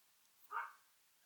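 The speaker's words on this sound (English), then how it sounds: "that's my dog." A single short dog bark heard faintly from outside through open windows of a camper, muffled and distant against a quiet room.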